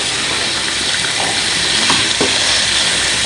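Potatoes and chicken fry in oil in a pan, giving a loud, dense sizzle with a few sharp crackles and pops from start to end.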